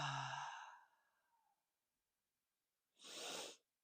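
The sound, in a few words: deep breath in through the nose and out through the mouth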